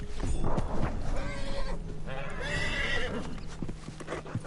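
A horse whinnies loudly over hooves clip-clopping in a PS4 video game, with a busy outdoor background and a faint voice mixed in.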